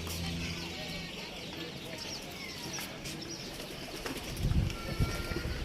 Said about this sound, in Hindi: ये ऊपर कबूतर उड़ रहे हैं, अभी भी आपको नज़र आ रहे होंगे